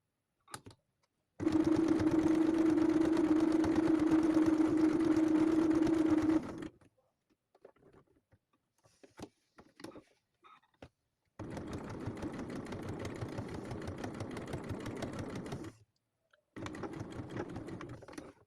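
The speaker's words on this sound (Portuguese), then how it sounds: "Eu tento costurar o mais rente possível" Sewing machine running a close safety stitch along a wallet, a long loud steady buzzing run, a pause with light clicks and handling, then two more stitching bursts.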